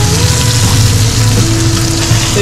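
Fish sizzle loudly in hot oil in a pan during home cooking of Tangra fish, a dense, continuous close-up crackle and hiss with a steady low hum beneath and no talking.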